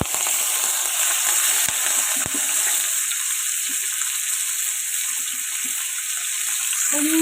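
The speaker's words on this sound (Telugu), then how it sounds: "దానిలో ఆయిల్ వేసుకొని తాలింపు గింజలు వేసుకుంటున్నాను. ఇవి కొంచెం వేగాలి." Tempering seeds sizzle and crackle in hot oil in a pan, a loud, steady hiss with a few sharp pops near the start. The frying is close up and no one speaks.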